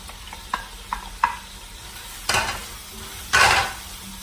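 Hotdogs fry in a hot pan while being stirred: a few sharp utensil clinks against the pan, then two louder bursts of sizzling, close by with no voices.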